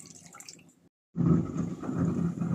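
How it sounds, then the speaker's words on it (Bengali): Water is poured into a pan of spiced potato curry after a brief quiet pause, with a steady close splashing rush that keeps going. "এখন আমি জলটা দিয়ে দেব পরিমাণ মতো।"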